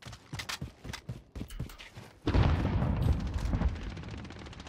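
Rapid bursts of MP5 submachine gun fire in Call of Duty Warzone, loud and close, first in short clipped volleys and then a dense sustained stream of shots with a rumbling low end.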